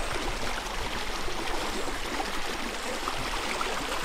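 Stream water runs steadily on the Alaskan tundra while water bottles, a Nalgene among them, are filled, a continuous close rushing trickle with no voices.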